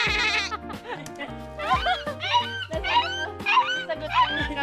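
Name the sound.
goat bleating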